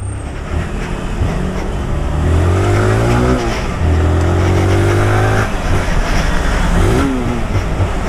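A yellow 2022 Honda Titan motorcycle revs and rides off. The single-cylinder engine climbs through several gears in loud, close sweeps over steady road noise, with no speech.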